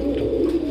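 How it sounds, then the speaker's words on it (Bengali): Fancy pigeons coo at a pigeon farm in Natore, Bangladesh, giving a brief, steady, low murmuring coo that sounds close by. "তো সুপুর ভাই, এখানে এটা আমরা কি কবুতর দেখছি ভাই"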